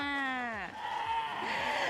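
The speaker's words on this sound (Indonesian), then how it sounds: "saya saat ini berada di kandang atau peternakan kambing milik catering Akikah" Goats bleating at a goat farm pen, one long, wavering nasal bleat followed by another overlapping, fainter cry amid quiet barn noise.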